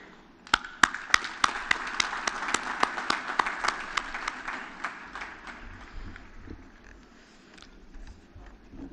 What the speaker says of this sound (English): I would like you all to applaud your families right now.